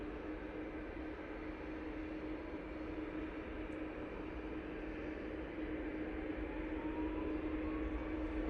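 A TUI Boeing 737 MAX 8 on its take-off roll at Manchester Airport, heard as a faint, distant, steady jet roar and rushing noise that holds evenly and swells slightly toward the end.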